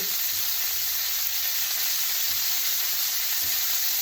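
Steak frying in a pan just after being flipped, a dense steady hiss of sizzling fat, loud and continuous throughout.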